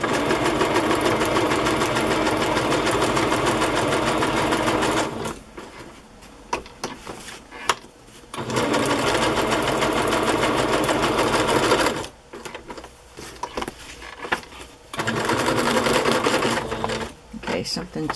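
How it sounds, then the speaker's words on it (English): Sewing machine stitching fabric pieces down, a loud, fast mechanical whir running steadily in three long bursts separated by quieter pauses with small clicks and handling sounds. "So I'm just going to sew these pieces down."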